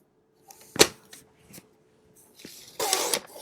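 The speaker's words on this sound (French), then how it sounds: "Alors il se coupe très bien avec le coupe-papier." A paper knife slicing through a sheet of textured paper, a few short scraping strokes with quiet gaps, then a louder, longer rasping cut near the end.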